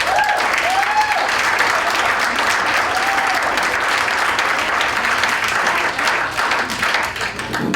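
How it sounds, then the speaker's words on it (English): A Carver High hall of fame induction audience gives a loud, full round of applause that holds steady for several seconds before tapering slightly at the end, with scattered cheers and voices mixed in. "That deserves a round of applause"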